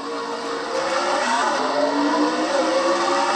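Several race cars roar off the line at the start of the Sin City 400, a Castrol GTX Cup Series race, with a steady, loud, layered engine drone and rising revs and no voices over it.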